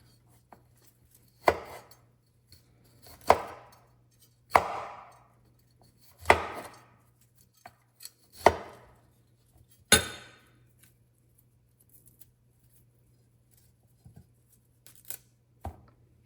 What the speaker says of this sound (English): So, broccoli chopped.